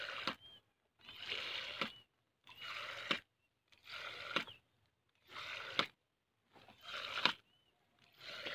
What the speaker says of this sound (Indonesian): kali ini kita menggunakan drigen kocor